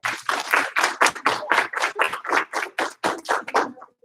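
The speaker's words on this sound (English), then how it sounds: "And give me 1 clap. 2 claps." A group claps in unison at a motivational gathering, giving a string of sharp, evenly spaced claps in quick rhythm, loud and close with no talking over them.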